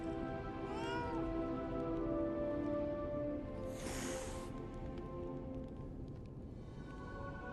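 A cat meows in Lies of P: several distinct meows, including a rising-falling call early on, heard over a steady background game ambience and music at moderate-low volume.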